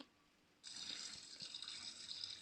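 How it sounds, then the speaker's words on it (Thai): Water runs from a tap in the Roblox Brookhaven game while an apple is washed, a steady soft hiss that starts abruptly after a brief quiet moment and continues faintly to the end. "ล้างล้างล้างล้างแอปเปิล"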